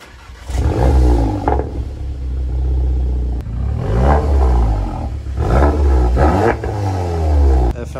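A Seat Leon Cupra 5F fitted with a stainless steel exhaust line starts up and revs, its deep engine and exhaust rumble loud and close, rising and falling through several throttle blips with no talk.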